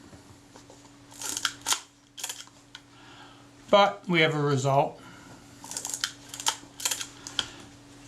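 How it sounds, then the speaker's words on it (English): A few sharp mechanical clicks from the shutter of a Kodak Retina Ia camera with Ektar lens, spaced apart, with a brief spoken phrase in the middle. "shutter works correctly at all speeds"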